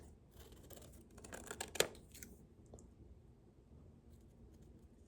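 Scissors snip through paper while forms are cut out for artwork. A quiet close-up run of crisp cuts comes with rustling paper, then fainter handling sounds follow.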